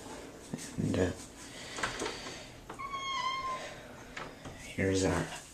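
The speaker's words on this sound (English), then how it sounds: "here's our poor sick cat with leukemia" A sick cat with leukemia meows repeatedly at close range, with several drawn-out cries spread across the clip while a person talks softly over and between them.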